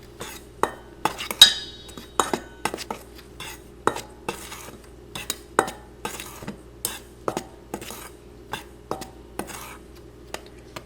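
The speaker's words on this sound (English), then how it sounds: "let's mix all these dry ingredient first" A utensil stirs dry bread dough ingredients with yeast in a bowl, producing quiet, irregular clinks and scrapes in a steady rhythm, close and alone with no talk.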